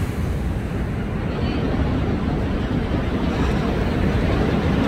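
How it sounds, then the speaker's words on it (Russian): Foaming sea waves surge along a German coast in winter, a continuous loud wash of surf blended with steady wind buffeting the microphone, no voices. "у нас очень много воды, и поэтому прямо море пенится"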